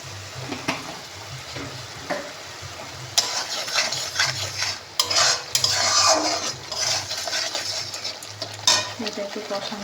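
Shrimp stir-fry with onion paste and sugar sizzles in a pan, with busy stirring and clinks of a utensil against the metal, louder bursts of scraping midway, no talking.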